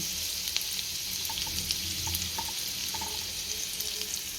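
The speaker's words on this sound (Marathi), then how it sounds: "पहिला तेल गरम झाल्यानंतर याच्यामध्ये मी टाकते लसूण" Garlic sizzles in a spoonful of hot oil in a pan on a home stove, a steady, soft crackling hiss with small pops, with no talk over it.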